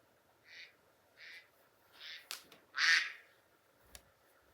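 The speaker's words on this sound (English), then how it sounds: "That was a duck, and they typically live on farms." A duck quacks alone in a clear sequence of about five calls, starting soft and growing louder, with the last call the strongest, followed by a brief faint click.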